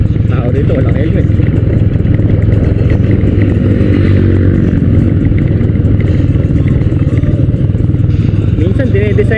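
A motorcycle engine runs steadily and loudly throughout, a continuous close rumble with some clatter.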